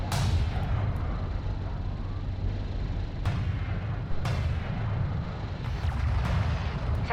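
Railguns under attack by AAVs in the strategy game Artifact: a steady rumbling battle din with scattered booming impacts and a few sharp cracks, dense and continuous, without speech.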